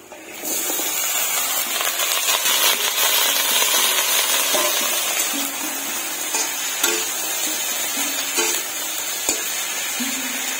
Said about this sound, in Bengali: এখন সজনেটা দিয়ে দিব। পেঁয়াজটা ভালো করে ভাজা ভাজা হয়ে গেছে।